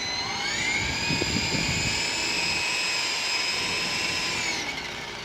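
An Extreme S-8G RC helicopter flies outdoors in wind, its small motor and rotor giving a steady high-pitched whine that holds level and then drops off toward the end, with some rustling underneath.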